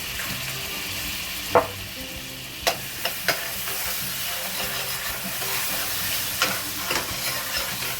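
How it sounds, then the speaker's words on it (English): Minced garlic and jalapeños fry in a pan for Mexican-style charro beans, a steady close sizzle and hiss with scattered sharp clicks of a spoon stirring against the pan, no talking. "now that I have my garlic kind of getting a little golden brown there"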